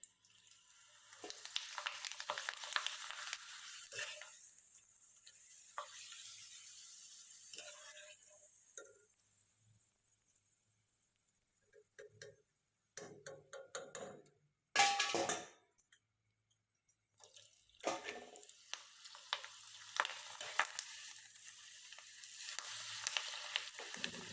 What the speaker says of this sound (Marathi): ह्या कुरवड्या आपण थोड्याशा तळून बघू आता कुरवडी कशी होती तळून बघूया तेल गरम झालं आहे